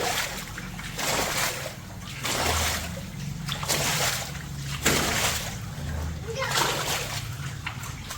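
Water splashes and sloshes in rhythmic surges through a house flooded without rain, close and continuous, with a child and an adult talking over it.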